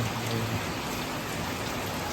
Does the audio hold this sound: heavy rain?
yes